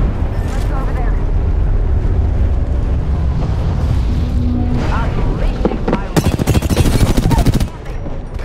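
Gunfire in the Apex Legends battle royale video game, with bursts of rapid automatic fire and sharp shots that build to a loud, dense volley near the end, mixed with game effects and players talking throughout.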